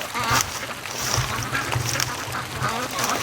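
Muscovy ducks fly past on a nasty morning in a yard where free-range ducks are kept. Several wing flaps and soft duck calls come through outdoor wind noise and rustling, with no talk.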